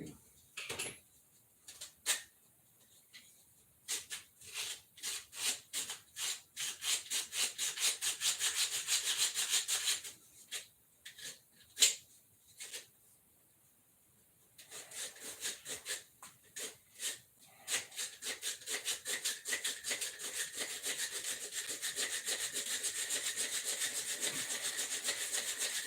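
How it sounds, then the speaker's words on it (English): Hand sanding wood with sandpaper to clear out glue, heard as quick rhythmic back-and-forth scratchy strokes in bursts with short pauses, then a long steady run of strokes, close and fairly quiet. "Put some sandpaper on it."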